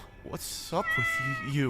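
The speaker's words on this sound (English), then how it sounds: "It's a cat." A cat meows in a couple of drawn-out, rising and falling calls close by, overlapping a person's voice speaking.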